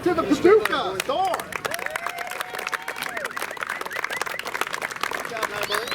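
Crowd applauding runner-up and champion baseball teams at a tournament awards wrap-up, a dense, steady patter of clapping mixed with scattered cheers and a whistle, with voices speaking over it.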